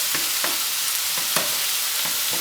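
Mushrooms frying in a pan until richly browned, a continuous loud sizzle broken by several scraping stirs spaced about half a second apart, with no voices.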